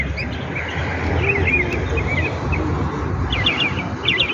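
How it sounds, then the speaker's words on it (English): A Jamaican songbird gives sweet chirps, a few scattered high tweets followed by a quick trilled burst near the end, moderately close over a constant low outdoor hum, with no voices. "you hear the sweet sound coming from the bird"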